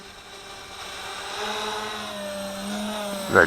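A WLtoys V383 toy drone in flight gives off a buzzing, whirring motor drone that rises and falls slightly, close to the microphone, with a brief louder burst at the end.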